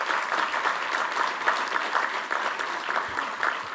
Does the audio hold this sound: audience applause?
yes